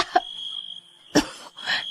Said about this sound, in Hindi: वो दोनों खांसने लगी।